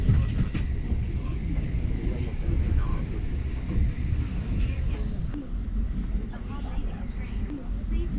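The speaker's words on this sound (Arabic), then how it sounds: "القطر فعلا مريح جدا، مش هتحس فيه بالسفر" Inside the Haramain high-speed train between Makkah and Madinah, running at up to 300 km/h, a low steady cabin rumble continues throughout, with a voice talking over it.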